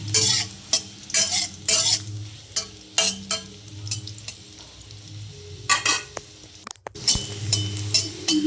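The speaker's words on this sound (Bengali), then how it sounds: "ওর মধ্যে আমি করলাগুলো ভালোভাবে ভেজে নেব।" Bitter gourd slices fried in a pan, a steady oil sizzle broken by repeated scraping stirs of a utensil against the pan, close and fairly loud with no talk.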